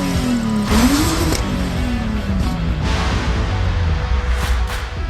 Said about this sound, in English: Flat 6 Subaru noises, of all things